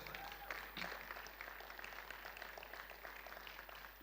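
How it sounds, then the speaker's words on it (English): An audience at a delegation talk applauds faintly and distantly, a soft continuous patter of clapping with a sudden louder burst at the very end. "give a round of applause"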